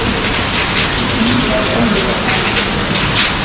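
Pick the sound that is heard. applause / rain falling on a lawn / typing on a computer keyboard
rain falling on a lawn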